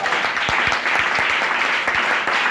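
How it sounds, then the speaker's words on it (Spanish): A church congregation applauds together in a dense, steady burst of many hands clapping, fairly close and continuous for a couple of seconds with no voices on top. "¿Cuánto le dan un aplauso al Señor en esta hora?"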